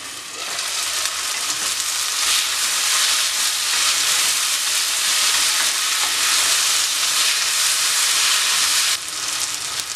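Ridge gourd stir-fry (peechinga mezhukkupuratti) sizzles steadily in a pan for the whole stretch while it is stirred, a loud, continuous frying hiss that dips briefly near the end.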